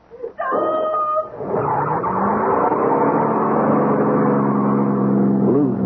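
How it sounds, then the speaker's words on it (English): A car engine roars loudly in a 1977 Radio Mystery Theater drama after a brief tonal start, rising to a sustained, steady growl that continues alone to the end. "drowned by the roar of the engine"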